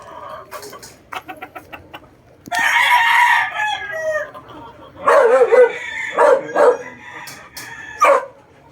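Gamecock roosters crow loudly and close by in a yard of fighting cocks, long strained crows repeating amid clucks and a barking dog.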